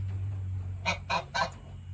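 Angry geese give three loud, harsh honks in quick succession, close by, over a steady low hum with no talk.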